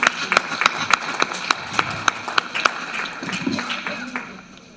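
Applause from a conference audience: a run of sharp, evenly spaced claps that thin out and fade toward the end, moderately distant, with faint murmur underneath.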